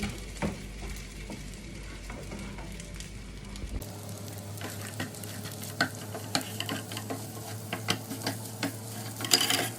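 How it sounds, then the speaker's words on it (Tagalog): Fried rice being stirred in a frying pan, a steady sizzle with repeated scraping and tapping strokes of a spatula, growing busier after a brief cut partway through. "Haluin na natin."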